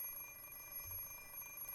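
An alarm clock rings in a visual novel, a steady electronic tone sounding continuously at moderate level with no talk.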